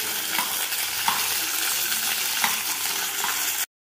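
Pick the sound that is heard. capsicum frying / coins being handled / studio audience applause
capsicum frying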